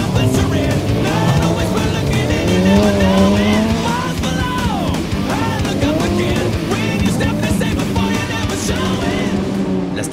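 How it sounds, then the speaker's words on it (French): Race cars slide around an ice track at Val Thorens in the Trophée Andros, engines revving and wailing in rapid up-and-down sweeps with tire scrabble, loud and close throughout, a faint yell briefly rising in the mix. "Cette compétition automobile sur glace se déroule de décembre à février"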